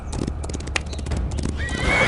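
Horse hooves clip-clop in a quick, steady rhythm close by during an outdoor obstacle course, loud and clear, with a brief whinny rising near the end.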